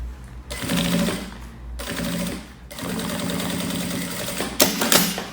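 A sewing machine stitches fabric for a rolled pencil case in three bursts of rapid mechanical whirring, separated by short pauses, close and fairly quiet.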